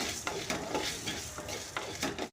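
Whole spices for puliyodarai (tamarind rice) dry roasting in a pan, with a steady dry crackle and repeated scraping strokes of a spoon stirring against the metal, fairly close and continuous, no voices.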